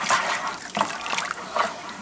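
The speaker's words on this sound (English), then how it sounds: "I put some hot water in this pail to mix this around." Hot water poured into a plastic pail while preparing a Coopers Draught home-brew batch, a soft splashing trickle that surges in a few brief bursts, close by and alone.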